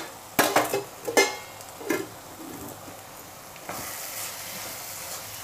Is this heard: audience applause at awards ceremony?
no